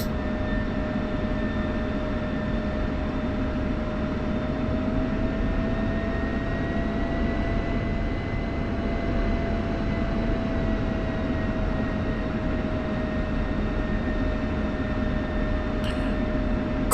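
An F-16 fighter jet taxis on a taxiway, heard as a loud, steady engine roar and whine with a constant pitch that drifts slightly, continuous and unbroken, with a brief click near the end.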